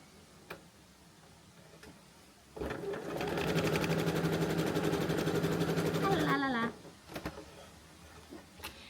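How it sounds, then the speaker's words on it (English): A domestic sewing machine runs a zigzag stitch on a tea towel, whirring steadily and rapidly for about four seconds before slowing and stopping, close and loud, with faint clicks before and after. "I'm gonna follow up that straight stitch with a zigzag stitch just to extra secure it."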